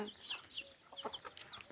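Desi hens cluck softly inside a large wire-mesh enclosure, a faint scattering of short, chirpy calls heard from a little distance with no voices.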